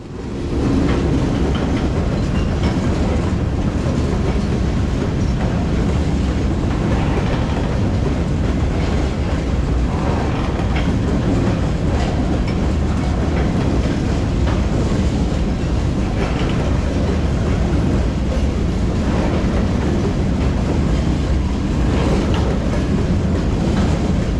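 A freight train of loaded stone cars rolls past in the wet, a continuous loud rumble with faint wheel clatter sustained from start to finish, no voices.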